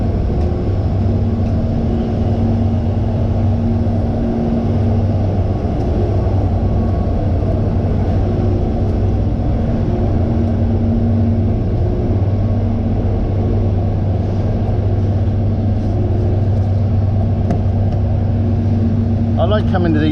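A truck engine runs steadily at idle, a loud continuous low rumble with a constant hum throughout.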